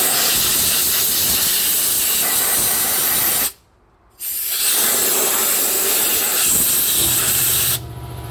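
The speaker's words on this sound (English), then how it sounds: "Now before taking off the top cover, I like to air blow all the dirt away" Compressed air blasts dirt off a Briggs & Stratton opposed-twin lawn tractor engine, a loud, steady close hiss that cuts out briefly, then resumes strong for several seconds.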